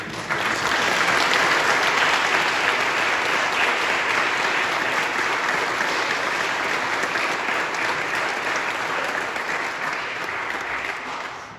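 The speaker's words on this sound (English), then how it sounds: "one last round of applause for your family and friends" Sustained applause from family and friends at the 2023 Wheaton Lyons baseball seniors graduation ceremony, a dense, loud, unbroken clapping from a full room that holds steady for over ten seconds before trailing off.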